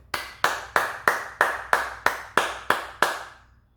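Slow, steady clapping: about ten single, evenly spaced claps from one pair of hands, crisp and fairly close, with no voices.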